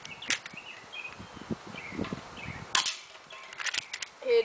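An airsoft Walther PPS pistol fires a few sharp, brief snapping shots outdoors amid faint rustling and footsteps, with a quiet voice in the background.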